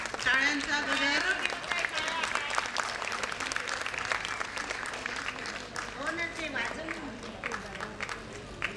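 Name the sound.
applause at an environmental conference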